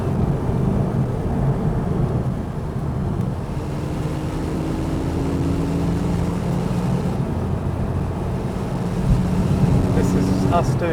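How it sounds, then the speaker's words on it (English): A Porsche 997.2 Carrera 4S cruising at 78 mph in fifth gear produces a steady, low engine drone and road rumble inside the cabin, holding even and unbroken throughout. "This is us doing 78 miles per hour in 5th gear"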